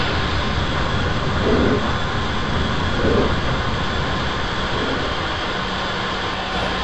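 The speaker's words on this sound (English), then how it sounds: "Bruce was getting ready to pull a freight train when Jerry pulled in with the express." An express train in a train simulator video game rumbles steadily with a broad, droning roar, a few soft thumps passing along as it rolls in; no speech.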